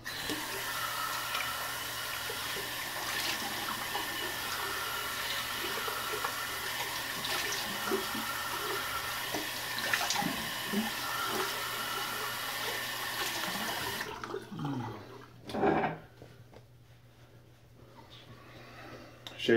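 Cold water runs steadily from a bathroom tap during a late-day wet shave, a constant hiss that stops abruptly near the end, followed by brief handling noises.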